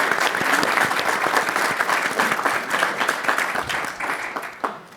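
Audience applause at the end of a panel discussion on creative and scientific intersections, dense clapping from a sizable crowd that stays strong, then begins to thin and taper toward the end.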